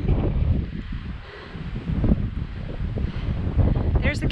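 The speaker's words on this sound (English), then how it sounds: "It's a little windy up here." Strong wind roars and buffets the microphone on an Adirondack mountain summit, a steady loud rumble that gusts up and down throughout.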